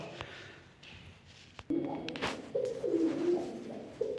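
Pigeons cooing in low, warbling calls, several overlapping, with light taps and scuffs nearby.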